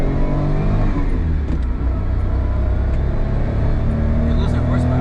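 An Autozam AZ-1 kei sports car under turbo acceleration, its engine holding a loud, steady, droning whir from inside the cabin, with voices over the engine.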